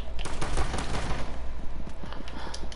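Rapid pistol gunfire in the game Rainbow Six Siege, a quick string of close, loud shots with faint clattering between them and no talk.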